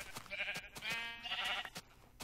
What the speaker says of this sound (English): There's like five sheep over here.